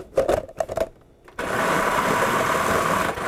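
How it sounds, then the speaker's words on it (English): Blender pureeing honey with raspberries, a few short pulses followed by a steady close, loud whirring run. "We're going to puree the honey"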